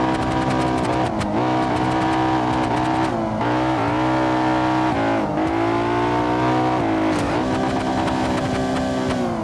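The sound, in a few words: Koenigsegg supercar engine in a video game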